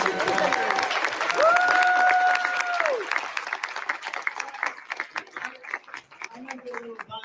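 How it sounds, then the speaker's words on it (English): A town hall audience applauds nurses standing among them, with sustained crowd clapping and a bright whistle rising over it early on, then thinning claps as the ovation tapers. "Let's give it a round of applause."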